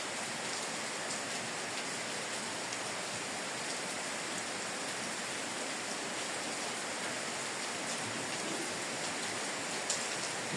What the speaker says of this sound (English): So, as I say, it's a rainy day up here.